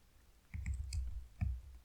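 A few soft keystrokes tap on a computer keyboard, one short cluster and then a lone press, quiet and close in a hushed room.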